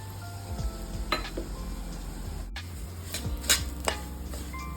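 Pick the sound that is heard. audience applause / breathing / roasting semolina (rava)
roasting semolina (rava)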